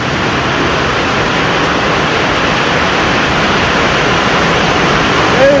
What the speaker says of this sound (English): It's getting pretty loud in here, the metal roof and the rain.